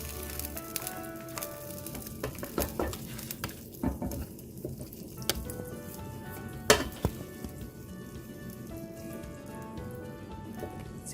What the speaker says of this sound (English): Stir in some cilantro, chopped cilantro leaves just before serving.